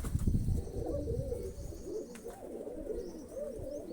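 Pigeons kept for pairing, including pure white birds, coo softly and repeatedly at a distance, with faint rustling and no talk.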